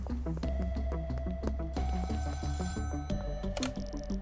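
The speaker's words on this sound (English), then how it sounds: "Uncle Nelson sent us a text, and we have to call him. We gotta get to a payphone." Payphone ringing in the video game Schedule 1, a bell-like telephone ring repeating in quick rhythmic bursts, loud and close with no talk.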